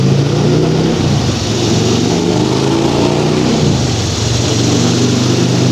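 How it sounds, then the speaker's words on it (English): A motorcycle passes outdoors, heard as a loud, steady engine roar holding throughout with slight swells, no speech over it. "Let that motorcycle go by."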